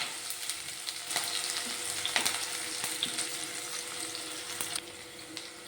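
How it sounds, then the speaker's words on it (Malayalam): Sliced onion and slit green chilies sautéing in a pan, a close, steady sizzle punctuated by sharp spoon taps and scrapes, with no talking. "രണ്ട് പച്ചമുളക് കീറിയതും വലിയ ഒരു സവോള സ്ലൈസ് ചെയ്തതാണ് അതും കൂടി ചേർത്ത് നന്നായിട്ടൊന്ന് വഴറ്റി കൊടുക്കണം"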